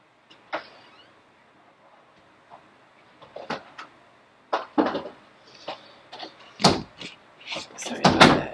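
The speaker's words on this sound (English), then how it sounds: "Make sure you shut the door all the way." Indoor door thumps and rattles come in a series of sharp knocks and bangs, getting louder toward the end as the door is pushed shut, with a faint voice in the background.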